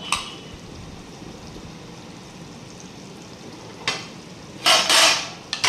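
Kerala-style fish head curry boiling in a pot, giving a steady low bubbling hiss, then a few louder, brighter bursts of bubbling or stirring toward the end, close and alone.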